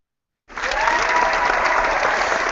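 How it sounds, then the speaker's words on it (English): An audience bursts into applause for a guest on a talk show, clapping starting abruptly after a short silence and holding steady and full, no one speaking. "Can we get a round of applause for him?"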